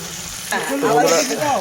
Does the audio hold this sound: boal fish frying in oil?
yes